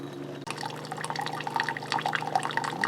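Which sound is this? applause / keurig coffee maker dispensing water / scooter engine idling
keurig coffee maker dispensing water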